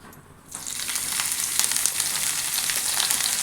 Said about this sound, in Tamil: இஞ்சி பூண்டு பேஸ்ட் போட்டுக்கலாங்க.